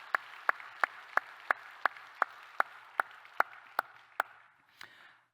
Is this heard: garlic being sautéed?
no